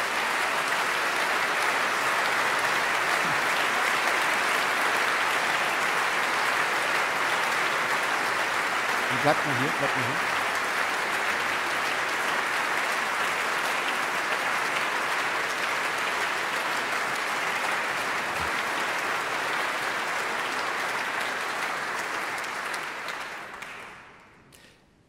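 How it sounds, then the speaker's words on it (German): A concert audience at a live opera gala for Ukraine gives long, sustained applause, dense and even for over twenty seconds before fading out, with a brief spoken voice partway through. "ich finde, das ist ein Applaus wert."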